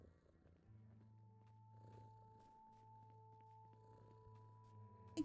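Soft, steady cat purring close by, a low continuous rumble over a quiet background with a faint hum.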